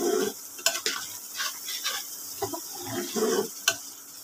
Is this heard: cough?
no